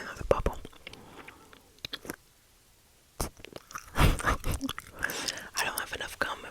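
Gum is chewed right against the microphone, giving wet, sticky clicks and squelches in irregular bursts, with soft whispering mixed in.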